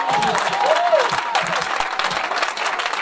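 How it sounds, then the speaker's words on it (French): A church congregation applauds, steady clapping from a crowd throughout with voices and cheers rising over it. "Est-ce qu'on peut acclamer maintenant?"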